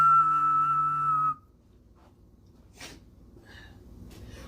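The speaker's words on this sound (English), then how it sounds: "What he just said there was a whole bunch of random ass whistling." A person whistles a single steady, tonal note for just over a second, then stops abruptly. Soft breaths and a few brief snorts or sniffs follow in near quiet.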